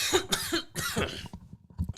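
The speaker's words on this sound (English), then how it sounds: "Excuse me for that cough there." A few harsh, close-up coughs in quick succession, then a softer trailing cough after a short pause.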